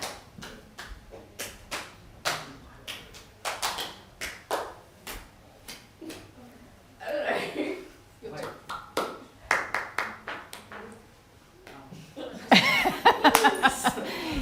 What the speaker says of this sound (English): this time we're just all going to do 2 claps.